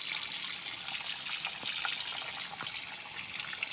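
Spring water beside a river on a farm flows steadily with a soft, continuous rushing and bubbling, a few small splashes rising briefly above the constant stream.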